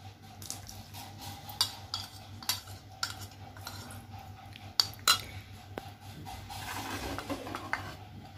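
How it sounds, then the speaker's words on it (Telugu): A spoon stirs khoa into a cooked bottle gourd and rice kheer mixture in a pot, giving soft wet swirling with scattered close metallic clinks against the pot, under a faint hum. "బాగా మిక్స్ చేసుకోవాలండి ఇట్లా"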